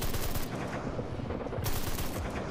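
Rifle fire in the video game Backrooms Break, a fast, dense, loud stream of shots heard close with no pause through the whole stretch.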